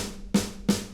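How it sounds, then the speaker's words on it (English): Two sharp snare drum hits, evenly spaced, each a crisp broadband crack with a short decaying tail, loud and alone with no talking. "We have our snare, which is right there,"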